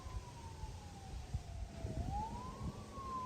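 An emergency vehicle siren wails faintly in the distance outdoors on a farm, its pitch sliding slowly down and then rising again under a low rumble of background noise.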